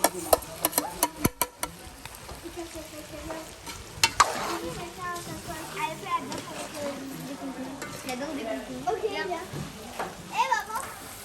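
Onions, garlic and spices fry in a pot for a black pork civet, with a continuous sizzle broken by sharp stirring scrapes and clatters, while people talk and children's voices carry in the background.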